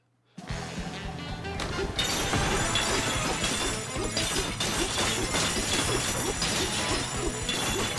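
Objects smash in Donkey Kong Bananza after a silent start: a sudden crash opens a dense, continuous run of shattering and crunching impacts, loud and close throughout.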